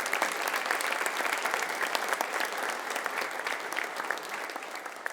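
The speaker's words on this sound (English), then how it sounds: "Big round of applause." Steady applause at a high school college signing ceremony, a full room clapping continuously at an even, fairly loud level throughout.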